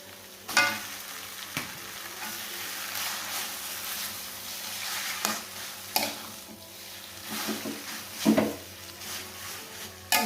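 Noodles stir-fried with mustard greens and chili in a pan give a steady sizzle and frying hiss, broken by scattered scraping and clanking from a spatula, close by with no talk.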